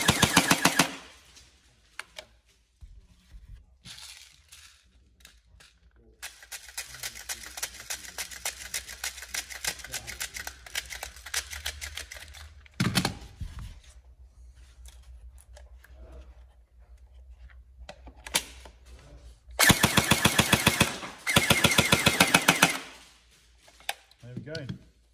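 TM SGR12 AES airsoft gun firing rapid rounds, several loud close bursts of fast clattering full-auto fire separated by quieter mechanical ticking and handling.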